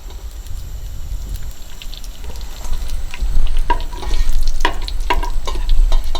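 Bacon frying in its own grease, a loud close sizzle with bursts of popping and spattering that thicken toward the end, heard alone without speech.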